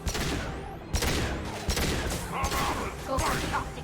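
Squads fire in concentrated bursts in the Mass Effect 2 video game, with rapid overlapping gunshots and sharp cracks punctuating a dense battle din at moderate level, along with intermittent combat chatter.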